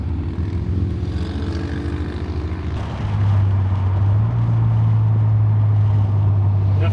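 A Nissan Skyline R34 GT-T engine running steadily, a loud low drone that rises to a stronger, higher hum partway through, heard close with no talking.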